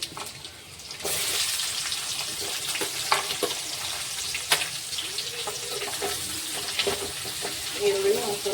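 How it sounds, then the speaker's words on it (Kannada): Onions hit hot oil already seasoned with mustard seeds and cumin for a beetroot stir-fry: a steady broadband sizzle jumps up after a quiet first second and runs on with scattered pops and spoon clicks, fairly close, with no talk. "ಎಣ್ಣೆ ಸಾಸಿವೆ ಜೀರಿಗೆ ಹಾಕ್ಕೊಂಡೇನ್ರಿ. ಕೈದಾಗ ಇವಾಗ ಹಸಿ ಎಲ್ಲ ಹಾಕ್ಕೊಳ್ತೀನಿ ರೀ. ಈರುಳ್ಳಿ ಹಾಕ್ಕೊತೀನಿ ರೀ."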